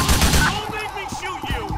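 Several gunshots in GTA IV crack close together at the start, a rapid burst, followed by lingering game ambience and faint tonal background.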